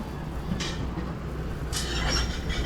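A train pulling into Tenali junction railway station, a low steady rumble of the carriages rolling in with brief hissing bursts over it, moderately loud and continuous, with no one talking.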